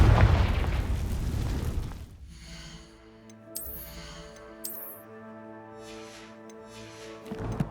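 A Confringo fire spell bursts in Hogwarts Legacy, a loud explosive blast that fades into a low rumble, followed by sparse tonal game sounds and a couple of quieter pops.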